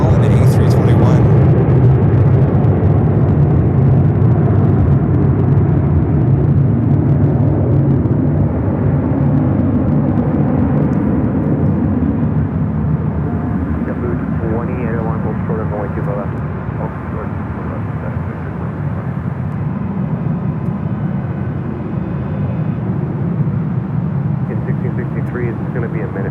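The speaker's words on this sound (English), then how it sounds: "This one heading to Fort Lauderdale, Florida as well in the A321." An Airbus A321 jet airliner takes off at LAX, a loud, sustained engine roar and rumble that holds steady throughout, with a faint voice briefly audible partway through.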